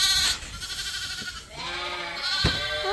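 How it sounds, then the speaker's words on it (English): Lambs and sheep bleat loudly and close by on a farm pasture, several overlapping harmonic calls, with one strong bleat near the end, alone without talk. "You have a beautiful lamb."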